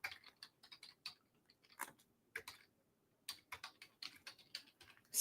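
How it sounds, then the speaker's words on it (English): Rapid clicking keystrokes on a computer keyboard while working in design software, close and crisp, coming in short irregular bursts separated by brief pauses. "and then you would have to type it out."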